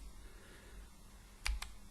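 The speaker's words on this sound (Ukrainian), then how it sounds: "на клавіатурі натискаю латинську кнопку X" A single X key pressed on a computer keyboard while drafting a wall in Archicad gives two quick, close clicks, a press and a release, against a quiet room hum.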